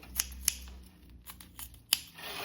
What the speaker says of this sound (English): go in and trim off the seam allowance corners of your exterior fabric